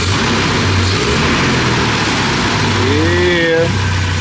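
A Jeep engine with Flashark Racing headers idles at a low, steady rumble, with a brief rising rev-like sweep near the end and faint background noise.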